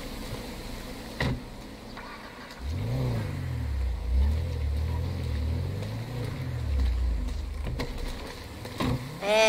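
A car in GTA 5 accelerating and then backing up, with a steady engine drone that rises and falls in several revving swells and a couple of brief clicks and bumps around it, close and with no voices.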